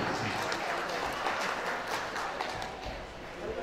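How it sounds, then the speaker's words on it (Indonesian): Audience applause at an inauguration ceremony for the Kampar family association board in Dumai, a steady wash of clapping from a crowd that carries through the whole stretch without pause, with a little background voice mixed in. "Kita berikan tepukan yang paling meriah."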